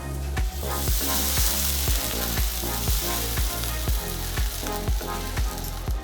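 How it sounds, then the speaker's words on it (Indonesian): Red and yellow Balinese-style spice paste frying with coconut milk in a pan, a loud steady sizzle with regular stirring scrapes, no talking. "setelah wangi nanti dimasukin santan sama bumbu."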